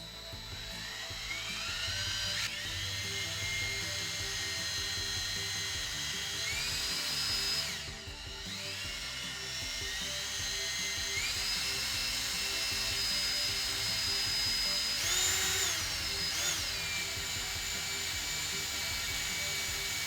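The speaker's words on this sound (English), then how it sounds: "I'm gonna just drill this" A high-pitched electric drill whines steadily, drilling two holes at once in plates for Honda Fit spoiler risers, its pitch rising and dipping as it bites in, with a brief pause partway through and no talking.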